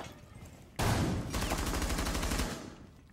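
Video game gunfire shooting through a wall: a sudden loud burst opens into sustained rapid automatic fire, a dense rattling stream of shots that stops abruptly near the end.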